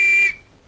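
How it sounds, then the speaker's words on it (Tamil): A whistle gives one steady, loud shrill blast that cuts off sharply after a fraction of a second, alone with no talk. "அப்புறம் ஏன் விசில் ஊதுற?"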